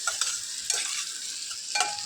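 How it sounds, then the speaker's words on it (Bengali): Vegetables, beans, cashews and raisins stirred in a hot pan for vegetable fried rice, a continuous close sizzle broken by several spatula scrapes at uneven intervals, with no voices. "কিছুক্ষণ নেড়ে নেব।"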